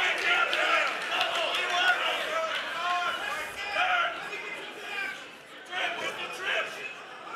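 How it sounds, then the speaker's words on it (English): Spectators at an amateur MMA bout, a crowd roaring and shouting in waves that swell and ease across several seconds. "This crowd's going crazy."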